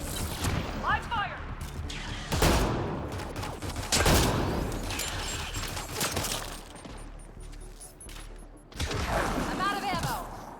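Rapid gunfire from a sci-fi firefight in Mass Effect Andromeda, loud bursts and sharp cracks in repeated volleys across the scene, mixed with game voices and effects.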